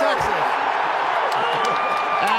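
A large draft crowd in Green Bay cheers in a loud, continuous roar with scattered whoops and whistles, filling the space while an announcer talks over it.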